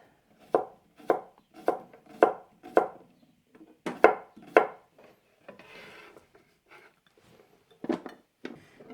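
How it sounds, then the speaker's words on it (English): A knife slices cucumber on a cutting board for a salad, with a series of crisp, evenly spaced chops close by, a brief pause of softer scraping, then two more cuts. "And then I have some cucumber. So I'm gonna cut some slices for my salad."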